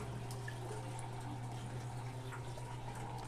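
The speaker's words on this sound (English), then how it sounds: "Let's go ahead and put the rest of this water in here." Water poured from a container into an aquarium in a fish room, a steady faint trickling splash over a constant low hum.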